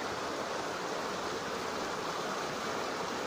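Rushing river water tumbles over many rocks on the bamboo-shaded slopes of Mount Lawu, a constant, dense, close hiss and roar with no pauses or voices.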